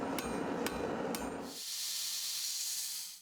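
Three sharp, ringing hammer strikes land on steel heated above 1000 degrees at a knife-making forge, followed by a loud sustained hiss like steam or spray.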